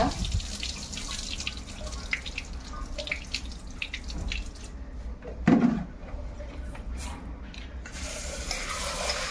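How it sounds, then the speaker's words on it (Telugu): Idli rava (rice semolina) is washed by hand in water, with sloshing, dripping and stirring sounds close by, irregular and moderately quiet, with a brief louder splash in the middle. "2 సార్లు కడుక్కుంటే సరిపోతుందండి ఇడ్లీ రవ్వ"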